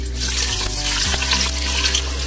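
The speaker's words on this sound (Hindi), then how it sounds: "ऑयल गर्म होने के बाद यहाँ पे जाएंगे एक स्मॉल साइज कटा हुआ प्याज" Small-cut chopped onion dropped into three to four tablespoons of hot oil, giving a steady, loud sizzle and crackle close by, with no talking.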